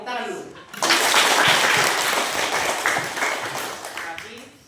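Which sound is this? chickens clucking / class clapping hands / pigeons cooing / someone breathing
class clapping hands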